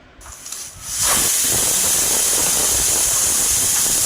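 A pressure cooker cooking mutton chops with about a tumbler of water gives a loud, steady steam hiss. The hiss bursts in after a second and holds strong and unbroken to the end, with no voices over it.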